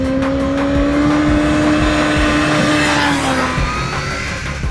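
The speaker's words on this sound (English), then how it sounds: "I do love the sound of that little supercharger chirping." Kawasaki Ninja H2 supercharged motorcycle accelerating hard on the road, a loud sustained engine wail with rising whine and supercharger chirp, close and continuous throughout.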